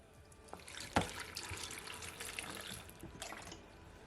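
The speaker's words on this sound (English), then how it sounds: "Then I'm gonna add at least 1 cup of water." Water poured into carrot, celery and peach juice in a blender before blending: a quiet splash followed by a soft, steady trickle and faint drips.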